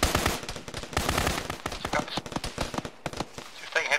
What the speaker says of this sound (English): Just taking heavy fire.